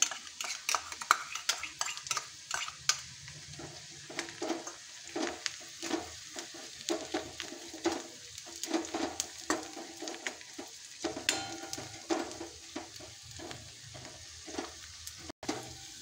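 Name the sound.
stirring ginger garlic paste with onions in a frying pan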